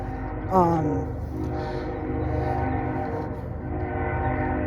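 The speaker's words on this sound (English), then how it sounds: "It's a train." A train horn sounds once, sliding down in pitch, over a steady low rumble of rail cars rolling past for the rest of the stretch.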